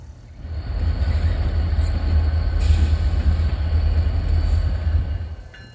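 A freight train pulled by Santa Fe Bluebonnet-painted locomotives rolls past with a steady heavy rumble and wheel noise that rises, holds for several seconds and fades slightly, with no talking.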